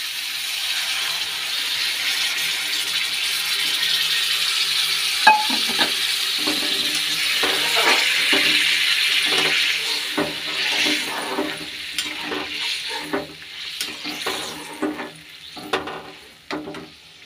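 Hot water poured into cooked spice paste in a pan, a broad steady sizzle at first, then breaking into uneven bursts of hissing and spattering that gradually thin out.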